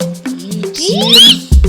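A cat meowing in the Minecraft video game, a few short close mews and a rising whiny call over soft game sounds, with brief voice noise at the end.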